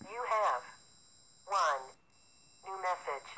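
A phone message plays through an answering machine in the Five Nights at Candy's horror game, three short clipped bursts of a recorded voice separated by silences, with a faint steady electronic hum behind them.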